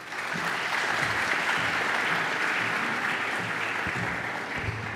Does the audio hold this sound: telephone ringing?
no